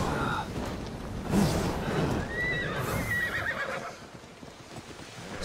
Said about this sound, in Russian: На лошадке сейчас поскачем.